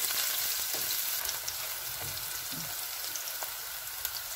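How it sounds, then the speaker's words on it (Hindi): Garlic fries in a pan with onion, giving a steady bright sizzle with occasional soft stirring knocks and small pops throughout. "गार्लिक, इनको 2-3 मिनट के लिए भूनना है।"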